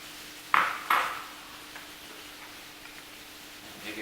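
Two pieces of star anise drop into a pan of melting butter in a home kitchen, making two quick, bright metallic clinks close together, followed by faint quiet sizzling.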